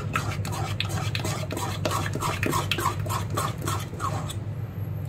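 Rapid scraping and tapping strokes of stirring martabak batter in a bowl, repeated steadily for several seconds, close by with low background hum.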